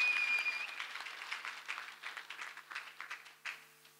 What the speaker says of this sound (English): Let us clap for Master Jesus